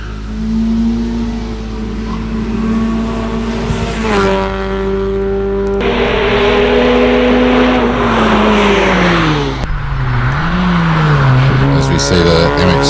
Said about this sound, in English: See the MX-5 of Wayne Casey now into the chicane